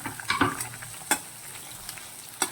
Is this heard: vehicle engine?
no